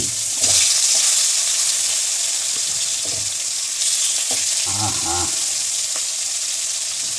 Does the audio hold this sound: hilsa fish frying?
yes